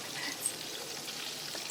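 Milk solids fry in boiling homemade ghee in a pan, giving a soft, steady sizzling hiss at low volume with no talking.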